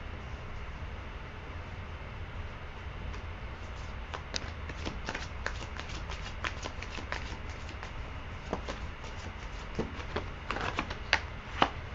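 Soft, rapid clicks and flutters of tarot cards being shuffled, growing busier toward the end over a low background hum.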